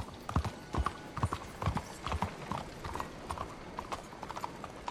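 Horse hooves clip-clop in a steady walking rhythm in the video game Red Dead Redemption 2, close and moderately loud, with faint background ambience.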